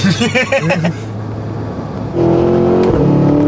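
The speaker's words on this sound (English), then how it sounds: "This is the only car on planet Earth that sounds like this" A Cadillac Escalade V engine revs up with a deep, rising roar after a moment of low idle, loud and close.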